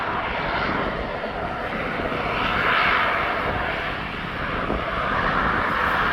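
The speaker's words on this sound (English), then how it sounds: "this Blue Island is now just getting his clearance for takeoff" Airliner beginning its takeoff roll at East Midlands Airport, a broad sustained jet roar that swells and eases slightly, heard from a distance with some wind buffeting and no talk.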